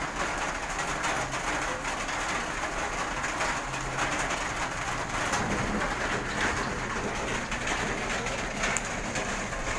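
Pigeons, both flyers and breeders, bathing out in the rain while sun and showers alternate, with steady rainfall hiss and scattered bird calls and flutters spread through the scene at a moderate distance.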